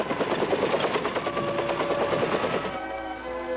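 A helicopter drones with a fast, pulsing rotor beat and engine whine, fairly loud and steady, easing off slightly near the end.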